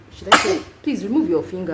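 A single sharp human sneeze bursts out near the start, followed by a person speaking.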